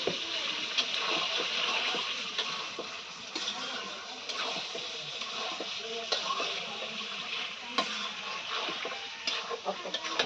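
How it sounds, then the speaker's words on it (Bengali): Meat stir-fries in a pan on a stove with a continuous mid-level sizzle. Frequent scraping and stirring clicks from a utensil come through, and no one speaks. "গোস কষানো হচ্ছে গোস দিয়ে দিয়েছি এখানে চুলা"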